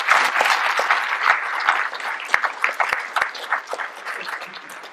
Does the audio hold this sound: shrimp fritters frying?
no